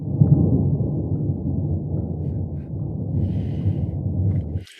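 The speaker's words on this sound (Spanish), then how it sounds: "trueno." A thunder effect from the Opal ambient sound program: a deep, sustained low rumble rolling continuously for several seconds, fairly loud and dark in tone, ending abruptly with a brief faint hiss.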